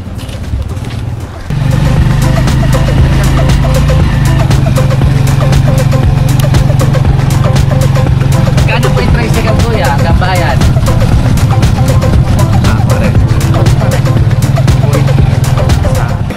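Riding along in a motorized tricycle in Zambales, a steady loud engine drone and road rumble running throughout after a brief quieter start, with voices faintly under it.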